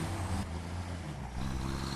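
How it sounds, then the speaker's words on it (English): A military-style diesel truck drives in the video game Satisfactory, giving a steady, low, droning engine rumble that holds on its own with no talking. "Sounds more like a military truck. Military diesel hauling around."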